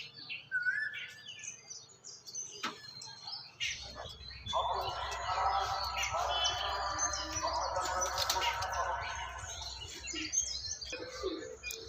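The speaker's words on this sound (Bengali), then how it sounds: "এই দেখুন আমার পায়রাগুলো উঠছে" Pigeons take off with a rush of wingbeats and chirping calls, near and fairly loud, over a steady low rumble. Someone talks at times.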